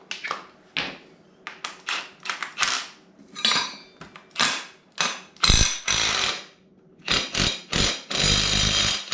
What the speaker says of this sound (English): I might rattle that nut off.